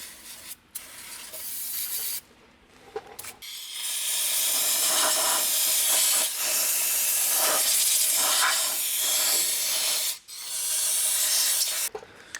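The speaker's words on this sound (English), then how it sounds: "And I'm just going to throw a little bit of WD-40 in there." WD-40 sprays from an aerosol can into the threads of an ICON coilover in long, loud, close hissing bursts, with short pauses between them and a brief stop near the end.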